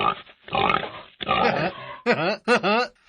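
A pig grunts and snorts in a few rough bursts, loud and close, with squealing calls toward the end and no talk over it.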